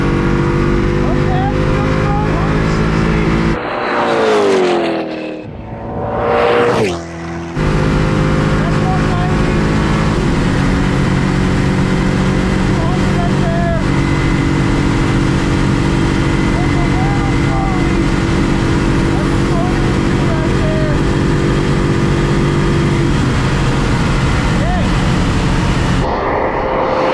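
Koenigsegg Agera engine pulling hard toward top speed on a straight run, a loud, sustained roar with rising pitch, a short break in the middle and then a long climbing drone heard from inside the car.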